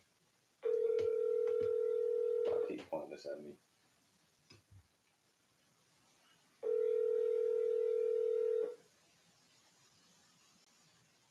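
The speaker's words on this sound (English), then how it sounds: "Let me dial it back. Dial it right back." Telephone dial tone sounds twice in steady bursts of about two seconds each, separated by a gap with brief clicks and handling noises as a call is redialed, with a voice speaking briefly near the start.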